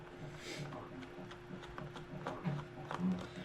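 Small metallic clicks and faint scraping come from screws being loosened on a Deepliner TERA fishing reel during disassembly, close and quiet, with a couple of slightly sharper ticks near the end.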